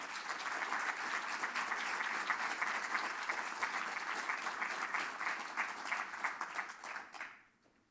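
Sustained applause from an indoor audience at a welfare services knowledge-day event, steady dense clapping for several seconds before fading out at the end.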